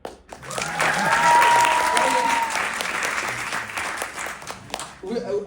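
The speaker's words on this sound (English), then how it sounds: "give them all together one round of applause" An audience at the opening of the 17th Somali Week Festival in London bursts into a round of loud, sustained applause that swells and then tapers, with a voice returning at the end.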